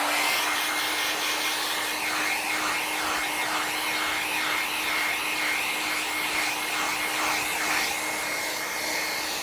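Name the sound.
hair dryer blowing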